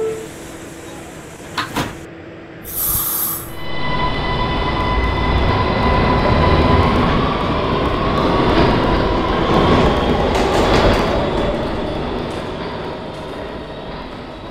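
An E line subway train on New York's 5th Avenue lines starts with door chimes and a slam, then rolls into a loud, sustained rumbling roar of wheels and car noise that slowly eases.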